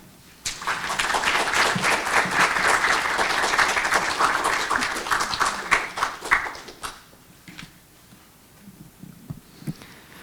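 Audience applause welcoming speaker Ron Chew, a loud burst of clapping that holds steady for several seconds, then thins into scattered claps and fades.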